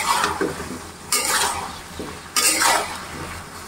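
Squash curry with soybeans being stirred in a pan, a spoon scraping in bursts at a steady rhythm over a soft sizzle, loud and close with no voices.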